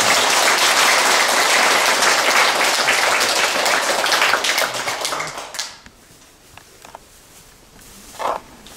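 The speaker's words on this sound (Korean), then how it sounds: "불자 여러분께서는 모두 큰 박수로 스님을 환영해 주시기 바랍니다." Loud, sustained applause from a Buddhist dharma-service audience welcoming a monk, a dense wash of clapping that fades out after about five seconds, leaving a quiet room with a few faint thumps.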